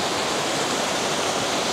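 Steady, loud rush of water near Lake Louise in Banff, a dense unbroken roar like a waterfall or fast stream, close and continuous with no voices.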